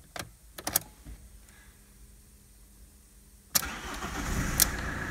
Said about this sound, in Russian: Заводится хорошо.